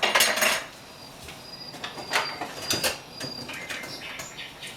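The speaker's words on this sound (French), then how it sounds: "on va plutôt mélanger avec une cuillère en bois." A wooden spoon stirs brioche dough in a bowl, giving a run of knocks and clinks against the bowl with soft, sticky scraping between them; nobody speaks.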